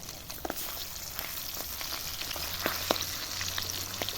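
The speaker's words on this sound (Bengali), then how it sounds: "এক পাশ ভাজা হয়ে গেছে এখন আমি উল্টে দিচ্ছি" Flipped aar fish pieces fry in oil with a soft, continuous sizzle dotted with small pops, quiet and close, with no voices.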